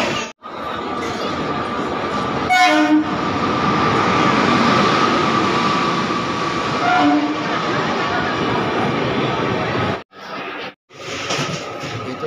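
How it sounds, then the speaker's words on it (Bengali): Kaziranga Express from Kolkata to Silghat Town pulling into platform 1 at a station, a loud continuous rumble of wheels and carriages with two brief horn blasts, faint voices in the background. "আর এইদিকে 1 নম্বরে ঢুকে গেল হচ্ছে কলকাতা থেকে সিলঘাট টাউন কাজিরাঙ্গা এক্সপ্রেস।"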